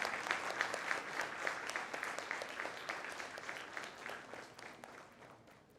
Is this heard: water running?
no